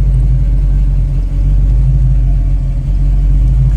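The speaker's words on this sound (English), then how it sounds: "Car sounds great. It's been running for a while." A 1967 Chevrolet Nova engine idling steadily, a loud, close, deep rumble with an even low throb and no revving, running alone without talk.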